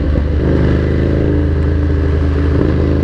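A Ducati Monster 797 motorcycle being ridden on the road gives a loud, close, continuous low engine drone with a steady rumble for a few seconds.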